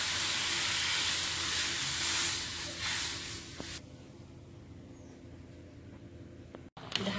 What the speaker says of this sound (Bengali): ভালো করে ভেজে নিয়ে জল দিলাম।